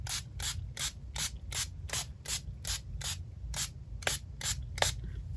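A hand spray bottle mists a coffee, water and ink mixture onto an art journal page in a quick, even series of short hissing spritzes, about a dozen in a row, close and fairly quiet.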